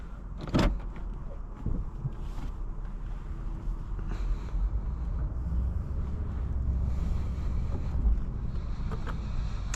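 Inside a 2020 Lexus RC 350 F Sport on the move, a steady low road and engine rumble fills the cabin with a constant wash of wind noise and a few scattered clicks, with no talking.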